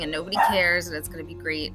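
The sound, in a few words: dog barking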